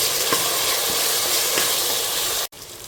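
Tomatoes and onions sauté in a pot for chicken biryani, a strong steady sizzle with faint stirring scrapes that cuts out abruptly for a moment before resuming.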